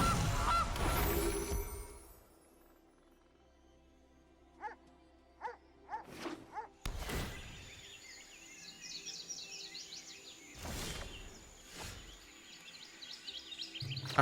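Cartoonish goose honks from the Gilded Goose card in the digital card game MTG Arena, a few short quacking calls followed by a longer, chattering flurry of honks over soft game background sounds.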